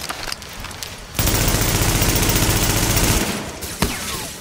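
Rapid automatic gunfire from the video game Tom Clancy's The Division rattles in a loud sustained burst of about two seconds, framed by scattered single shots before and after.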